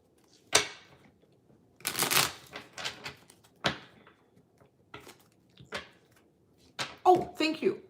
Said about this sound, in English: Let me do some pre-shuffling here.